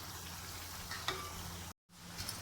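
Shallots frying with rice flour in a pan for Pesaha appam, giving a steady, dense sizzle with faint stirring scrapes, broken by a brief silent gap before the frying resumes.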